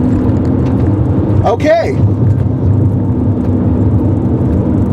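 A 2013 Toyota RAV4 EV electric car accelerating from a standstill toward 60 mph, heard as a steady rumble of road and wind noise throughout, with a brief spoken word from a man partway through.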